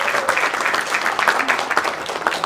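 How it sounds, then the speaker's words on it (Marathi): Audience applause at a book release event for a book titled NPA Nightmare: Struggle for Survival and Revival, a dense, steady crowd clapping that stays loud and even across the whole moment. "जोरदार टाळ्या असल्या पाहिजे. Come on everybody."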